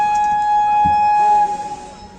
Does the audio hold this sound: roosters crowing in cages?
no